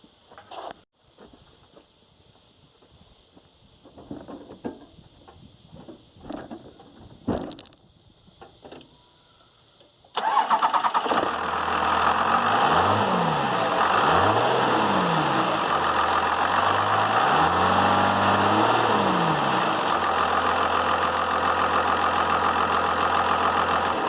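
After some faint handling noises, a Dodge Ram Cummins diesel engine with the turbo silencer ring removed abruptly fires up and runs at a loud, steady idle with a few rising and falling revs nearby.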